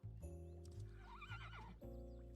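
A horse whinnies loudly in the fantasy MMO Ashes of Creation, a rising and falling neigh over a steady game music drone, with a few hoof clops around it.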